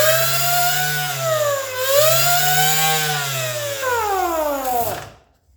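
A Vevor orbital sander whines loudly and steadily, its pitch sliding down and back up as the variable speed lever changes, before the motor cuts off and winds down into silence.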